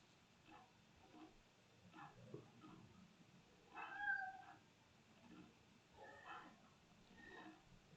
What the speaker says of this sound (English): one of my cats is sitting right outside my nail door meowing like crazy